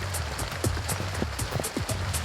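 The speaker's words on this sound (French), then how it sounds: "La pluie battante crée des coulées d'eau qui ralentissent leur progression." Heavy pouring rain on Réunion Island, a dense steady hiss of drops pattering on surfaces with runoff water, continuous and close, with low rumbling beneath and no voices.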